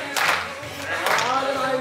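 A group of choir members claps in unison during a line dance lesson, with two sharp, bright bursts of clapping about a second apart over a soft musical background.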